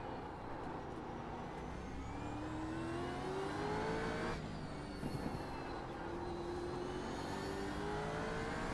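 A Gen 3 V8 Supercar engine in iRacing accelerates out of a corner at Long Beach, its loud rising whine climbing steadily through the gears, with a brief shift and renewed climb.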